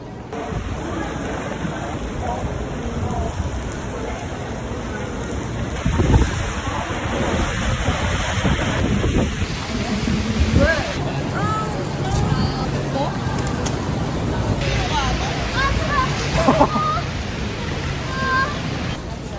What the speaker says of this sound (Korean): 제주도에 도착했는데 태풍 타파가 들고 와서